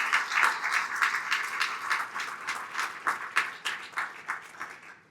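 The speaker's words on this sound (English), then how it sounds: "So let's give them one more round of applause" Audience applause for the Edu-Futuro staff at a 2025 gala evening, a steady wash of many hands clapping at moderate level with no talk.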